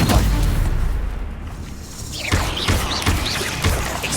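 Stupefy spell cast in Hogwarts Legacy combat: a booming blast and whoosh open the moment, then a string of sharp thuds and impacts follow in quick succession amid dense game noise.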